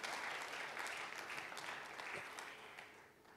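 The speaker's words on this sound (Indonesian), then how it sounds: "Berikan tepuk tangan bagi Tuhan kita." A church congregation claps in praise during a sermon, a dense burst of applause that is strongest at first and then gradually fades.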